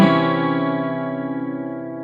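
A 12-string guitar rings out a single strummed flat 9 chord in C, its many bright harmonics sustaining and slowly decaying over about two seconds, close and clear with no talk.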